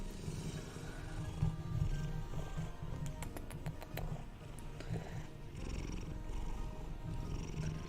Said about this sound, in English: Sunshine is also purring.